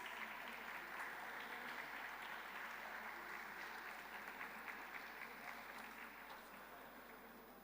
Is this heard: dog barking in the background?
no